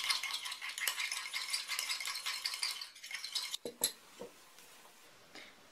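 A spoon stirs marjoram into pork in a bowl, giving a close, quiet, busy rattle and scrape that turns into a few sharper clinks and taps as the mixing slows.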